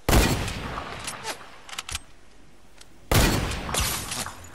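Gunfire in the video game Fortnite: sharp bursts of shots in two loud clusters at the start and again after a pause, with scattered single cracks in between and brief voice under the action.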